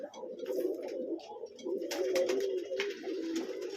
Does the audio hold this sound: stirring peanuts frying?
no